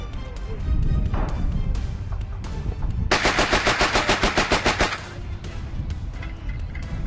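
An AGS-17 automatic grenade launcher fires a steady burst of heavy, evenly spaced thumping shots for about two seconds, loud and close, with other gunfire crackling before and after it.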